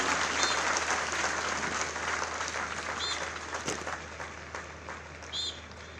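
Steady, loud audience applause fills a PAC foundation day ceremony in Lucknow, a dense wash of clapping that holds throughout and eases only slightly toward the end.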